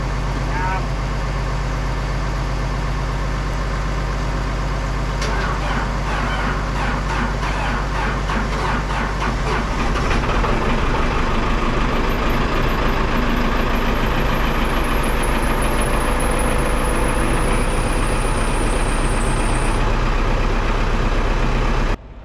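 A swather's Cummins diesel engine cranks for several seconds, then catches and settles into a loud, steady rumbling idle up close, with a faint high whine above it.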